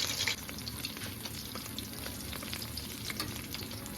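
Gola kebabs frying in oil in a pan give off a steady, dense sizzle with soft crackling throughout, close and even, with no talk.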